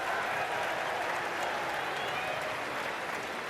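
Crowd at a college basketball game applauding, a steady wash of clapping and arena crowd noise throughout, with commentary voices underneath.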